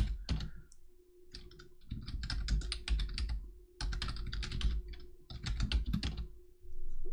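Typing on a computer keyboard while entering a word to disassemble in SwiftForth, with bursts of close, crisp key clicks separated by brief pauses and a low steady hum underneath.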